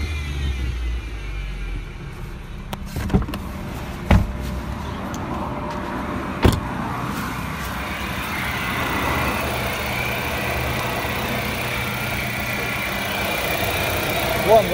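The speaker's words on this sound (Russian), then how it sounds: "Подсасывает двигатель" A car engine idles with a steady low rumble and an air leak, a few sharp clicks and knocks on top, while people talk nearby.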